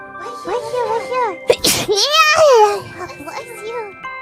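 A single sharp sneeze bursts out in the middle of animated, high-pitched childlike chatter, close and loud against the surrounding talk.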